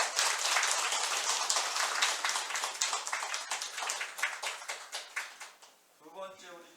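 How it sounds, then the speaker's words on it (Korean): A church congregation at a Sunday morning service gives sustained applause, a dense wash of clapping that gradually thins out before a voice begins speaking. "자, 우리 박수로 축하하겠습니다."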